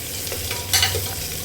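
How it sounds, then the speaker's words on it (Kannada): Onions frying in a pan toward golden brown for vegetable pulao, a brief steady sizzle with light scraping stir sounds close up. "ಬ್ರೌನ್ ಆಗೋವರೆಗೂ ಫ್ರೈ ಮಾಡ್ಕೊಳ್ಳೋಣ"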